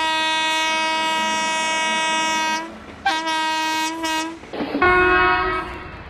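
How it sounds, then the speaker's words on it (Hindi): An Indian railway train sounds its horn in a distinctive signal pattern: a long, loud blast, a short break, then further blasts, all close by and with no talking over them. "ये दो छोटा एक लंबा के मतलब होता है चेन पुलिंग।"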